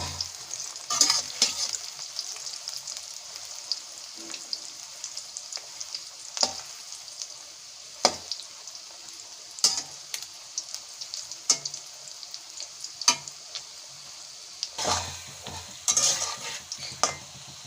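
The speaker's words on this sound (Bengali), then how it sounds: "ওইদিকে ফুলকপিটা ভাজা হচ্ছে" Cauliflower pieces frying in a pan for a village-style Bengali masala dish: a low constant sizzle broken by about a dozen sharp spatula scrapes and clanks at irregular intervals, close and without speech.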